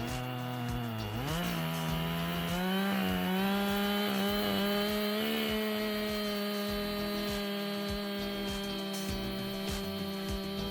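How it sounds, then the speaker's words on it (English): A chainsaw roars steadily and loudly throughout, its engine pitch dipping and rising as it bites through a log, with no voices. "It really amazed me how quickly that chainsaw could go through the log."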